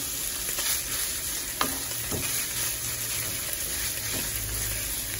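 Chorizo fries in a pan with a steady sizzle and crackle. Occasional stirring scrapes and small pops sound close by over the constant frying hiss.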